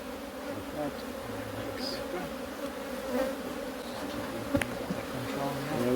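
Honeybees buzz in a dense, continuous drone during an open hive inspection among aloes, loud and close, with a brief sharp click midway.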